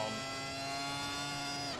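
A race car engine in a 1998 Japanese Grand Prix racing video game holds a steady, high, whining drone at near-constant pitch throughout, loud and unbroken, with no talk over it.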